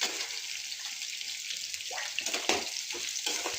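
Sliced bitter gourd fast-frying in a pan gives a steady, hissing sizzle, moderately loud and close, with a few brief stirring scrapes near the end.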